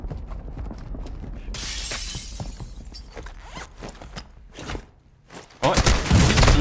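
Gunfire in Call of Duty Warzone 2.0 sounds as sharp, rapid cracks in uneven clusters, with a brief lull before a loud burst at the end.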